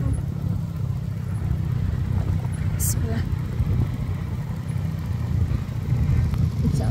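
A motorcycle taxi engine runs steadily while riding a narrow mountain footpath on Mount Galunggung, a low continuous rumble close by with brief faint spoken words over it.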